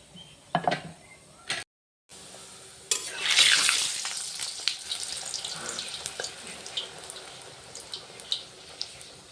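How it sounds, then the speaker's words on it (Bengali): Okra (bhindi) fries in a pan, giving a quiet sizzle with scattered stirring scrapes and clatter, plus a short silent gap early on. "এই যে ভেন্ডি ভাজা করে নিচ্ছি"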